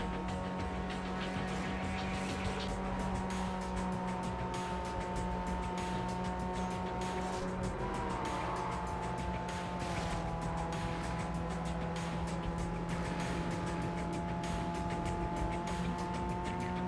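A Nissan 240SX engine in the Need for Speed Carbon video game drones steadily throughout, a continuous close hum with slight pitch shifts as revs change, no voices.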